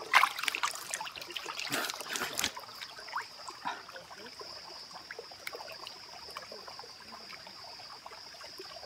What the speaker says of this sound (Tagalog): Meron pa palang ganito sa gitna ng gubat. Merong batis.